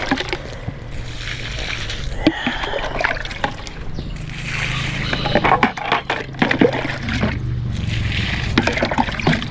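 Water splashes and trickles over vegetable plants, with tomatoes among them, as a garden is watered by hand, irregular splatters and dribbles close by against a steady outdoor background.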